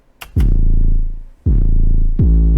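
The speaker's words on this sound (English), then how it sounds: "Then I went ahead and added the 808" A distorted 808 bass pushed to maxed levels booms in three long, saturated notes, each with a sharp clicky attack and a sustained buzzing low tail. The notes are loud and alone, separated by brief gaps.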